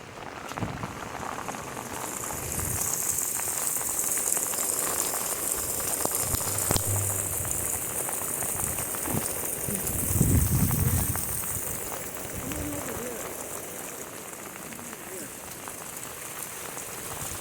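Steady, heavy rain pours down for the whole stretch during a flash flood, a dense hiss of drops on surfaces with a few dull bumps and faint movement nearby.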